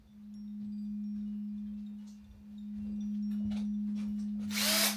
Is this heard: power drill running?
yes